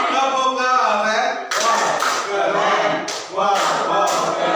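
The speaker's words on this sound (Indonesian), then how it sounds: "Tepuk tangan untuk semuanya, boleh?" Audience applause in a school teachers' gathering, a dense wash of clapping that rises in bursts and swells across the whole stretch, fairly close and loud, with a speaker's voice faintly mixed in.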